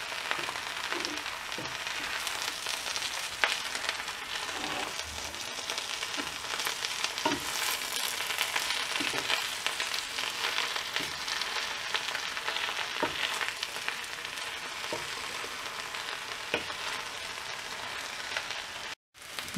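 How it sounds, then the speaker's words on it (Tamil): Drumstick leaves fry in a pan with softened onions for a Tamil murungai keerai poriyal, giving a steady, dense sizzle with scattered crackles and stirring scrapes throughout, cutting off abruptly at the end. "முருங்கை கீரையை போட்டுட்டு இதை ஃப்ரை பண்ணி விடலாம்."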